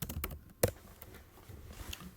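Keys clatter on a computer keyboard in a quick burst of close clicks, with one sharper strike standing out, followed by sparser, softer taps in a quiet room.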